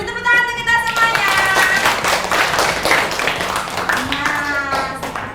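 Primary schoolchildren in an Indonesian math class clap together in quick, rhythmic bursts close by, mixed with children's voices and a teacher talking over and between the claps.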